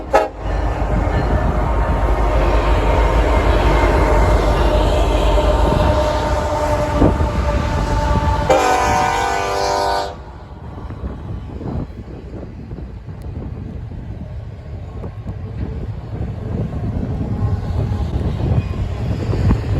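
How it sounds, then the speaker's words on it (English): A Union Pacific downhill freight train rounds a sharp curve in Echo Canyon, a steady loud rumble of rolling wagons with a horn blast around the midpoint, then the rumble continues, somewhat quieter. "In the next shot, we'll actually pace a train, a downhill train, around that curve."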